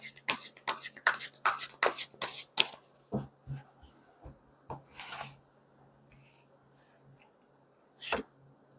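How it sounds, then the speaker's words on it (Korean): Tarot cards are shuffled close up in a rapid run of crisp riffling bursts, then slow to a few scattered slides and taps as cards are drawn, ending with one sharp snap of a card set down. "제가 마지막으로 우리 님에게 드릴 조언 카드 뽑고 마무리하도록 할게요."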